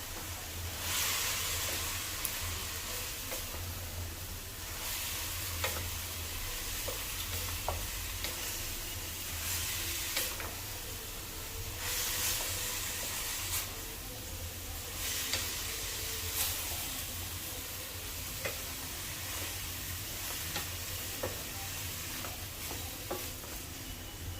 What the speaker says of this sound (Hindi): और अब हम इसमें डाल देंगे कैबेज। इनको कर लेंगे अच्छे से मिक्स।